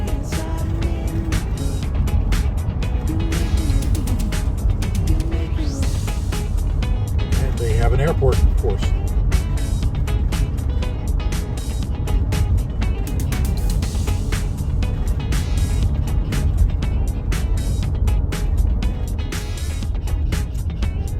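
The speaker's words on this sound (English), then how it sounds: "Guadalajara is a large city, which means a lot of traffic." Steady road noise from a car driving through heavy city traffic in Guadalajara, Mexico, a constant low rumble with passing vehicles, while a person talks over it for most of the stretch.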